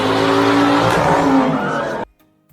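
A car revving and its tires squealing as it drives at a man, a loud engine rush with a skid that cuts off abruptly into silence.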